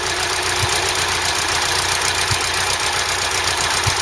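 A Ford Cortina Mk3 engine runs with the automatic in drive, a steady mechanical hum with faint periodic knocks, held at a constant level.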